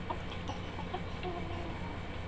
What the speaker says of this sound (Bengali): আজকে আমার দুপুরে মুরগিগুলাকে কি খাবার দিলাম